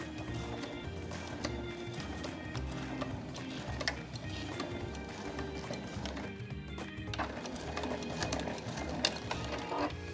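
A domestic sewing machine stitches along the edge of a zipper pouch, giving a steady, fast, even mechanical whirr with rhythmic ticking needle strokes that runs continuously without pause.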